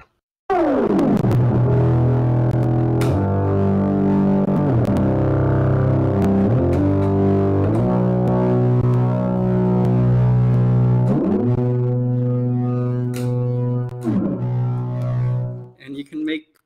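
Buzzy electronic tones from an ArduTouch music synthesizer, dense and distorted, stepping between sustained pitches with swooping glides, loud and steady before breaking up at the end.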